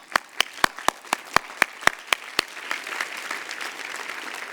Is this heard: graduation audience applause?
yes